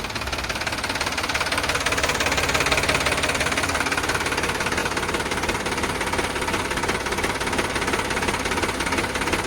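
A Sonalika 745 tractor's diesel engine idles close up, a steady, knocking rattle with constant vibration and no change in pace.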